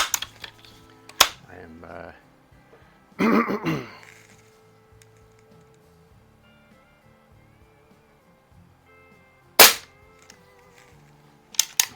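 A repaired Crosman 766 air rifle fires heavier 10.5-grain pellets, with three sharp, loud cracks spaced several seconds apart, a short talking voice between them, and a faint fizzing and rattling after the shots.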